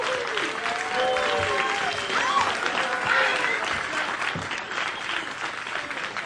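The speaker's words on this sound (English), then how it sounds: "Please make some noise for Cleveland Ken." A comedy-show audience applauds and cheers for about six seconds, a dense wash of clapping with whoops and shouts riding over it and steady from start to finish.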